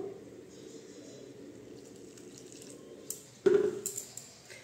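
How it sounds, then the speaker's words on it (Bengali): Lukewarm water pours into a bowl of flour mixed with oil for egg paratha dough, a soft trickle at first, then a short louder splash and a few uneven drips near the end, close up. "এখন আমি দিয়ে দিচ্ছি জল।"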